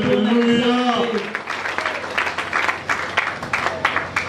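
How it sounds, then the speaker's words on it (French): A church congregation claps loudly for the children, steady dense applause after a voice fades out at the start, with cheering voices mixed into the clapping. "Acclamons très fort pour les enfants."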